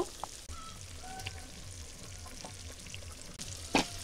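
Bottle gourd tipped into a pan of frying shrimp masala, giving a faint, steady sizzle with soft stirring scrapes and a brief louder clatter near the end, with no talking.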